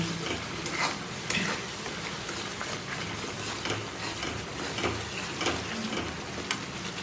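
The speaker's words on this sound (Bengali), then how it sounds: "দিয়ে দেবো পরিমাণ মতন নুন দিয়ে সুন্দর করে মশলাটাকে কষে নেব" A spice paste with turmeric, sugar and salt sautés in a pan, its steady sizzle broken by rhythmic scraping and stirring strokes from a spatula, with no voices.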